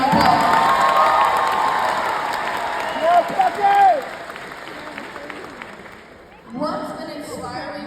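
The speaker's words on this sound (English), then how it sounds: "Let's give them one more huge round of applause." Graduation crowd in New Orleans cheering and applauding loudly, with shouts and whoops rising over sustained clapping that thins out, then a burst of voices returns near the end.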